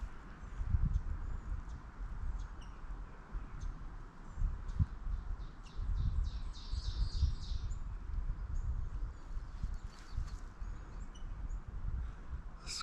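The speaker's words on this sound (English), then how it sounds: "Yes, rose-breasted grosbeak." Rose-breasted grosbeak calls, short squeaky notes repeated in a loose series, ring out faintly over steady low rumble and footstep-like noise on a rugged wildflower trail climb.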